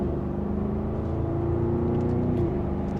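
An Audi SQ8 V8 SUV in dynamic mode, second gear, accelerates gently from inside the cabin, a steady low engine drone and whir with a slight rise in pitch, no talking.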